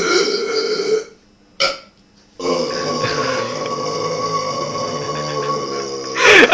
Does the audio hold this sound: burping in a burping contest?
yes